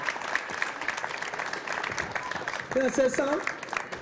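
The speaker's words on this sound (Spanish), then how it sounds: "¡Un aplauso," Steady audience clapping at a Latin American music festival in 2007, moderately distant and continuous, with someone briefly speaking over it near the end.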